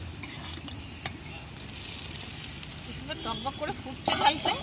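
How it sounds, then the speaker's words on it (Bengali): Black gram dal with beans bubbling in a pot over a wood fire makes a soft, low simmering crackle, with a few utensil clinks and louder bubbling toward the end. "কাঠের জালে ডাল খুব সুন্দর ফুটছে"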